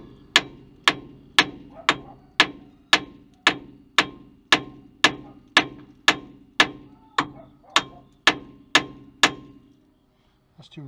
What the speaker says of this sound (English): Sometimes you can smack on this knuckle here. Let me try that.